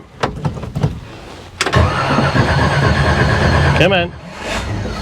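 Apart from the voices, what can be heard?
1970 Chevelle engine starting and driving away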